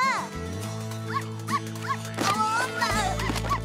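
A cartoon puppy yips and barks in a quick series of short, high, bouncy barks over a musical underscore.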